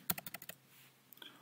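Several quick keystrokes on a computer keyboard tap out in a short burst near the start, then a pause before a couple of fainter clicks, close and clear with no talking.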